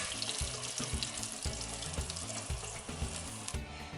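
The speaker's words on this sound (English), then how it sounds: "So I just put water in, just enough to cover it, because this is gonna boil" Water runs from a tap into a cooking pot to cover chicken pieces for boiling, a steady close splashing and rushing stream that continues throughout with faint clinks.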